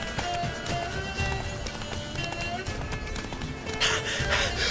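Rapid hoofbeats of a galloping horse in The Witcher 3: Wild Hunt pound along under game music and a voice, with a brief whoosh near the end.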